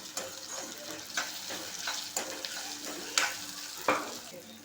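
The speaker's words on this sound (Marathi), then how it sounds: "तर आता टोमॅटो घातला आहे तो पण आता चांगला परतून घेऊया" Onion and tomato sauté in a pan with a soft, continuous sizzle. About five scraping stir strokes come at a steady pace, and the cooking stays fairly quiet and close.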